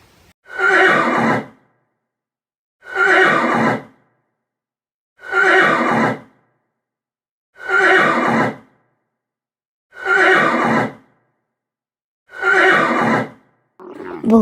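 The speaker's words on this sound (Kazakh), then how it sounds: "Жылқы кісінейді." A horse whinnies six times in a row, each loud, close neigh lasting about a second and separated by even gaps of silence, with no talking.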